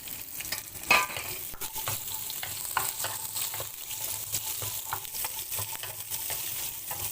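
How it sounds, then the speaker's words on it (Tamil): Onions sauté in a pan with mustard seeds, pepper and cumin, a continuous close sizzle broken by repeated spoon scrapes and stirring clatter. "வெங்காயம் நல்லா வதக்கணும் இப்போ வெங்காயம் வதங்கிருச்சு"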